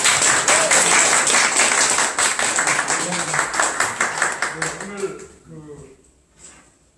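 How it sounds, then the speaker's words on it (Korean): Audience applause during a lecture event, loud, steady clapping that thins into scattered claps and dies away, with voices audible beneath it toward the end. "두 분을 위해서 박수 한번."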